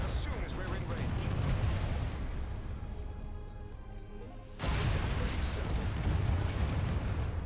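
Ships unleashing weapons fire in the space strategy game AI War 2: a dense, continuous rumble of booming shots and blasts that briefly thins, then surges back louder, with a voice talking over it.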